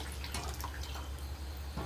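Ground coconut paste being poured into simmering chicken curry: a wet, steady splashing and dripping pour that runs close and fairly loud for about two seconds, with no voices.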